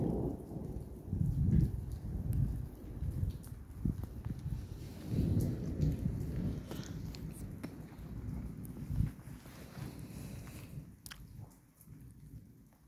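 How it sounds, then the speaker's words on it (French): Thunder rumbles in deep, rolling waves during a moderate to strong March storm in Capestang, several swells rising and fading over light rain patter and scattered crackles. "Le tonnerre."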